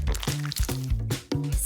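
Wet tissue dipped into a bowl of water, glue and color dye mixture, giving repeated squishy drips and small liquid splashes in a steady rhythm, close and alone.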